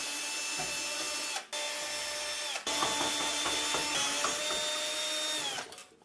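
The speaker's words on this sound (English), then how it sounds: "I think if I can loosen these screws, the plate will come off." Screws being loosened on the plate of a scrapyard belt sander, heard as close, dry ratcheting and clicking mechanical bursts broken by two short pauses, with no talking.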